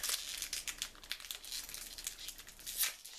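A Pokémon Furious Fists booster pack wrapper crinkles and tears as it is opened, a steady run of close, soft plastic rustling and crackling with no talk.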